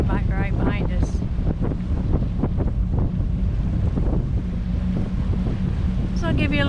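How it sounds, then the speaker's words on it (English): Strong wind buffets the microphone on a boat out on the water near Port Orchard, a constant loud roaring rush, with a voice talking through it. "As you can tell, the wind is blowing."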